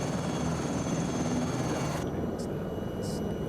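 A helicopter flying over the Andes in Microsoft Flight Simulator 2024 gives a steady, loud rotor and engine drone throughout, with a faint high whine above it.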